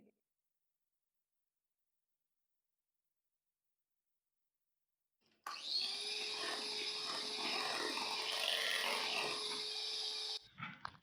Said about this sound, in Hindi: अब हम ऑयल ऐड करेंगे और बीट कर लेंगे।